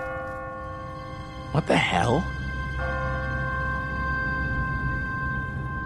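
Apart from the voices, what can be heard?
church bell ringing in video game The Walking Dead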